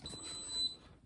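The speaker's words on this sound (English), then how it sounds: "It's beeping that it's done." An Instant Pot electric pressure cooker beeps as it finishes cooking, a thin steady high electronic tone lasting about a second over faint room noise.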